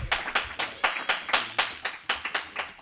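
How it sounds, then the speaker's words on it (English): Crisp, evenly spaced handclaps from an audience at a symposium, about four per second in a slow regular rhythm, fairly close and with no talking over them. "Please clap for me."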